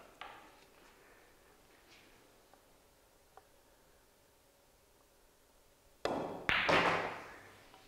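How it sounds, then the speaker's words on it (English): Pool cue strikes the cue ball for a follow shot during eight-ball practice drills, a sudden loud crack followed by a short burst of clacking and rolling after several seconds of near-quiet room tone. "I'm going to take this as a follow shot."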